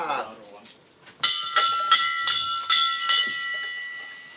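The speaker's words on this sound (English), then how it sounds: "Bring out the big bell for that one." A large hand bell is rung repeatedly during a live stream in Bushnell, Florida, giving about eight loud, evenly spaced metallic clangs with ringing overtones that carry between strikes, close to the microphone after a brief stretch of talk.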